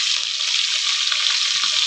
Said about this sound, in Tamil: நல்லா வதக்கிக்கிறேன்.